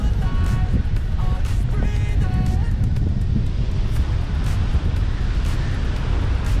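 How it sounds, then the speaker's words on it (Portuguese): Strong wind buffets the microphone at Praia dos Anjos beach in Arraial do Cabo, a loud continuous low rumble with gusty roar throughout, while faint tonal sounds briefly appear early on. "o vento tá forte aqui"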